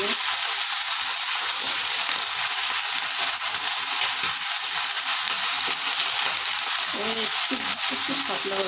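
Leafy kumro greens hit hot oil in a frying pan, a steady loud broadband sizzle running throughout with faint stirring underneath, no talk.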